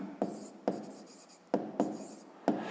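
Pen writing out a math solution on paper, five sharp strokes each followed by a short scratchy scrawl, close and distinct.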